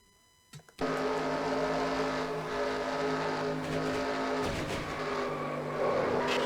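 On-board race car engine at Denver Motorsports Park in an NNSCRA Spectrum Cup Series race bursts in loudly after a brief quiet start, then holds a sustained, steady droning roar throughout.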